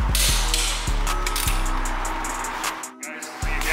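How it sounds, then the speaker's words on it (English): Torque wrench tightening lug nuts on the wheel of a 2023 Silver Flare Metallic Chevrolet C8 Corvette to 140 foot-pounds, heard as a close series of rapid ratcheting clicks in four or five pulls with short pauses, over a steady low hum. "I like to torque the wheels, make sure, triple check, double check."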